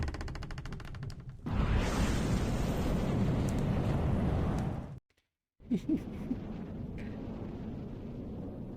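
Rocket launch in The Darkside Detective video game: a loud, sustained roaring rumble that holds steady for several seconds, cuts to a brief silence, then returns as a lower continuous rush with a couple of sharp pops.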